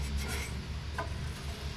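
A Scotch-Brite pad scrubs Weber carburetor parts for a 1986 Mazda B2000, giving short close abrasive rubbing strokes against a low background rumble.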